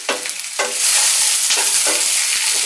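Whole garlic cloves and pieces of ginger frying in a pan over low-medium heat, a steady loud sizzle with a few scraping stirs of a spoon in the first seconds.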